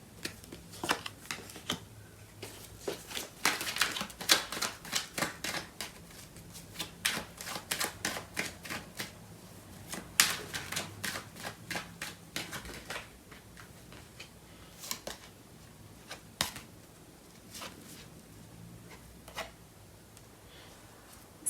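Close, quiet riffling and flicking of tarot cards being shuffled to draw clarifiers in a love reading, with dense bursts of rapid clicks that thin out into scattered single taps later on.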